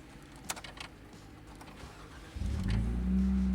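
A Jeep Wrangler Sahara 2-door with custom exhaust idles quietly amid light clicks, then the engine revs up sharply and holds a loud, deep exhaust drone to the end.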